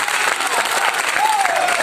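Applause and acclamation from an audience at a speech in Yopougon Toit Rouge, a steady dense wash of clapping filling the room, with voices mixed into the noise.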